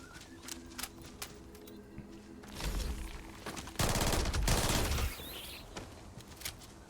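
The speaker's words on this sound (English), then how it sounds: "That is definitely a rifle." Rifle gunfire in the space game Starfield: scattered sharp single shots, then two loud sustained bursts of rapid fire, the second longer and heavier, followed by a few more isolated shots.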